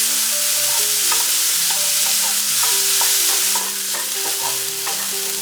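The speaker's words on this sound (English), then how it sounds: "And now I'll add chopped mushroom stems. We'll saute them for a couple of minutes." Chopped mushroom stems and green bell peppers fry in a pan with a loud, continuous sizzle. A spatula stirs and scrapes them in a steady rhythm, and no one speaks.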